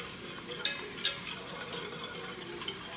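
A spoon stirs black pepper and salt into chicken pot pie filling in a pan: soft, continuous scraping and swishing with a few light clinks of utensil against the pot, close by under a steady faint background hiss.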